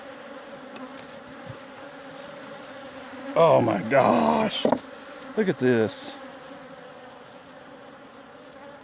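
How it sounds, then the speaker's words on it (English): A low, steady hum of honey bees buzzing in a hive fills the background while a person speaks briefly in excited bursts partway through. "But there's still bees in here"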